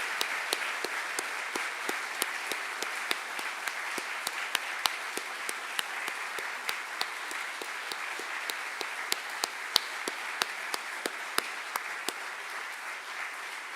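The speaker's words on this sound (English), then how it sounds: "let's give our 2022 Alumni Awards a round of applause" A ceremony audience gives a sustained round of applause for alumni award winners, dense clapping with sharp individual claps standing out over a steady crowd wash.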